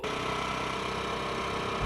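A motorbike engine runs steadily at close range, a continuous low, even drone with no speech, holding constant for the whole stretch.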